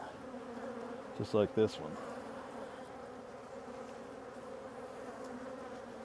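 Honey bees buzz steadily around hive frames filling with nectar, a soft constant hum with a few louder close passes of individual bees, while a person speaks briefly.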